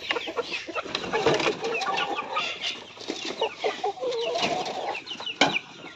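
Chickens cluck continuously in a backyard flock of layer hens and gamefowl, with busy overlapping calls and occasional wing flaps at close range.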